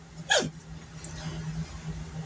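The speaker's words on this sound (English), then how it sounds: "Little hillbilly's got hiccups." A single sharp hiccup, close and fairly loud, followed by quiet background with a low steady hum.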